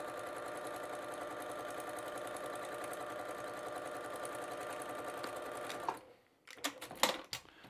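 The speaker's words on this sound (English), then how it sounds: "I'm going to come to my machine and make myself a beautiful 1/4 inch seam allowance." A sewing machine runs at a steady, even pace while stitching a quarter-inch seam in cotton fabric for a composition book cover, then stops, leaving a few light clicks and rustles.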